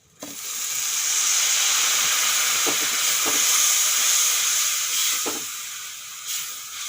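A little water hits spices frying in a pan for a soybean curry, setting off a loud, sustained steam hiss and sizzle close by that holds steady and fades slightly near the end.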